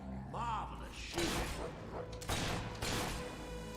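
Gunfire crackles through a Fable 3 fight, with several bursts of sharp shots and impacts mixed with game effects and a character's voice.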